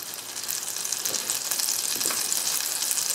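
Butter sizzles steadily in a hot pan, a close, constant frying hiss with faint crackles and no voices.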